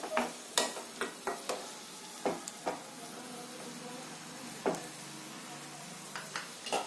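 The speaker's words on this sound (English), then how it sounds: "Mix well and let the tomatoes cook completely." Tomatoes cooking in a pan for a moong dal gravy: a quiet, continuous sizzle sits under a series of sharp spoon taps and scrapes as the mixture is stirred, with clusters of knocks at the start and end.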